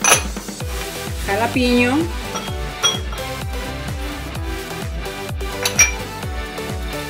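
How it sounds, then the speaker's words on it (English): Cilantro and onions are mixed in a small bowl, a quick, steady run of close clinks and knocks from the utensil against the dish, with a brief spoken word near the start. "In a little bowl, you mix cilantro with onions"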